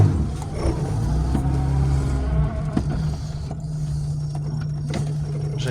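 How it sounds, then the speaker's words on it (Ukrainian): A ZAZ Slavuta car engine runs steadily while driving, a close, continuous drone with road noise and small bumps throughout, no talk over it. "Мотор тут працює чітко."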